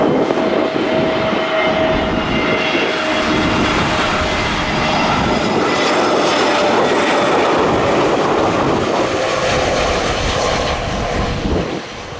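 Airliners landing at Gibraltar airport on runway 27, seen from a nearby beach, give a loud, steady engine roar that stays close and sustained throughout, with no voices present.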